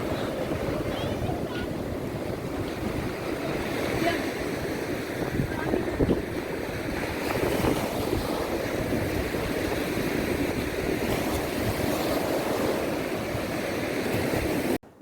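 Sea waves roll in at Bheemli beach, a small fishing village near Visakhapatnam with hills nearby: a steady, continuous surf roar with wind buffeting the microphone throughout.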